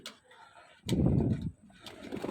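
Pigeons at a pigeon sale give a single soft, low, throaty coo lasting under a second, close by between quieter background sounds.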